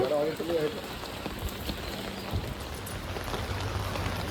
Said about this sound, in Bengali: বৃষ্টির মধ্যে বেরিয়েছি ভিজতে।